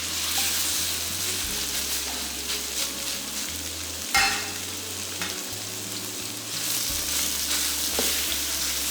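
Minced pork fries in hot oil in a pan over medium heat, a steady close sizzle broken by scraping and stirring sounds as the meat is broken up, with no talking.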